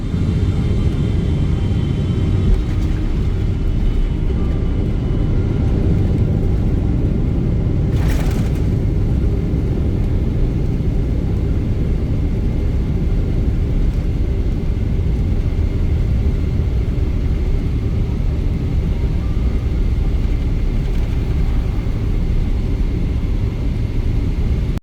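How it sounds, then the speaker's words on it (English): An EVA Air Boeing 777 lands at Hong Kong, heard from the cabin as a loud, constant low engine and airframe rumble that holds steady throughout. "Now, enjoy this landing into Hong Kong."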